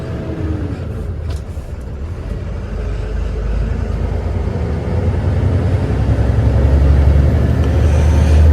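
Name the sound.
truck loaded with grain setting off and driving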